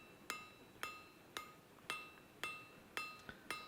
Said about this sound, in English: Again, overlapping hammer blows